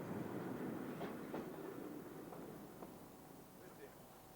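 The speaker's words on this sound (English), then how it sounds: "Running early is the Duxford trip with 47308 in naked Railfreight livery." Freight train hauled by class 47 locomotive 47308 in Railfreight livery, collecting cargo wagons on a Speedlink trip; a steady rumble with faint clanks of wagons fades slowly as it moves away.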